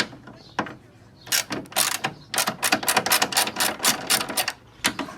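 A ratchet loosening 12mm hood bolts during a teardown of an Infiniti G35 front end, heard as close clicking ratchet bursts in several quick runs separated by brief pauses.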